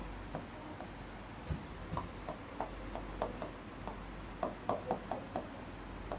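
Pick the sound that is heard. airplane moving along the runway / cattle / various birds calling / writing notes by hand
writing notes by hand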